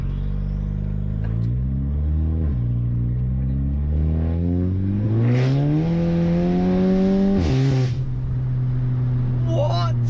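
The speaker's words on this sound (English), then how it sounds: "You can really hear the turbo whistling." Volkswagen Scirocco with a sports cat exhaust running up through the revs in loud, close pulls, with a turbo whistle and sharp hisses between gear changes while someone talks over it.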